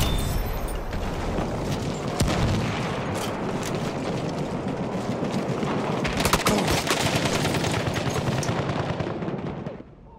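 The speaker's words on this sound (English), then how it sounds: "It's an enemy machine gun!" Dense enemy machine gun fire in the Battlefield 1 video game, continuous rapid bursts mixed with explosions and battlefield din, loud and sustained before cutting off near the end.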